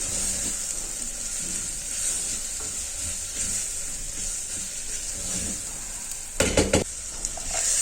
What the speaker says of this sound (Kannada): ಇವಾಗ ಇದನ್ನೆಲ್ಲ ಹಾಕ್ಕೊಂಡು ಚೆನ್ನಾಗಿ ಫ್ರೈ ಮಾಡ್ಕೊತೀನಿ